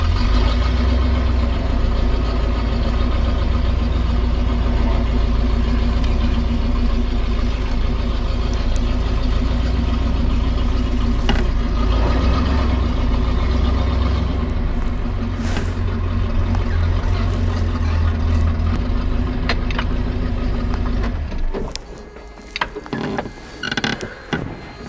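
Toyota truck engine, just started after sitting two months and running a little rich, idles steadily and loudly with a deep constant drone and mechanical clatter for about twenty seconds before cutting to quieter irregular noises.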